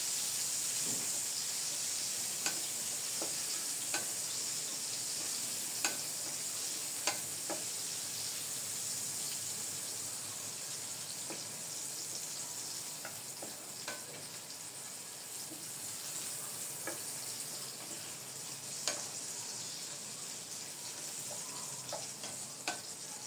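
Onion sautéing in a pan, a steady, even sizzle and hiss of hot oil with scattered small pops and occasional stirring taps throughout, close and uninterrupted.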